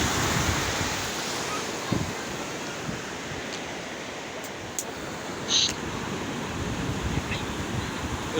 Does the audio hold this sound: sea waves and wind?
yes